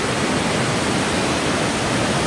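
Valsampetta waterfall pours in a loud, dense, unbroken roar of falling water, close and steady throughout without any voices.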